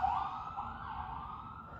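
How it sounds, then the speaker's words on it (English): A siren wails steadily in the distance, a faint, sustained rising and falling tone with no voices. "You can hear the sirens."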